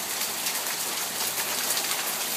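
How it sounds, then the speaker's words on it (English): Hail falling during a storm in Tempe, Arizona: a dense, steady hiss of countless small impacts, loud and continuous with no voices. "You can see there's lots of hail on that stool."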